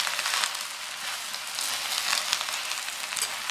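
Moringa (drumstick) leaves sauté in a hot pan with a steady, dense sizzle that crackles evenly throughout at close range, with no talking.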